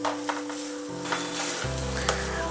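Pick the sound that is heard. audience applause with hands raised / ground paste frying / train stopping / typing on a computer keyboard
ground paste frying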